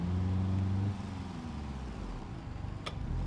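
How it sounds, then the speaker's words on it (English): A car rolls slowly in a video game, its low engine hum and tonal drone steady and close, shifting slightly partway through, with a brief sharp click near the end. "Okay, I'm gonna start driving slowly."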